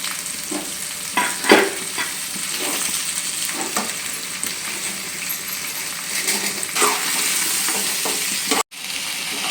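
Green chilli chicken sizzles and fries in a pan while a spoon stirs and scrapes through it in irregular knocks and clinks, the steady crackle filling the whole stretch with no one speaking.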